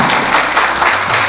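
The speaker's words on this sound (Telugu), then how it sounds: "చప్పట్లు కొట్టండి ఒకసారి గట్టిగా." A church congregation clapping loudly together, a brief dense burst of applause that stays strong throughout.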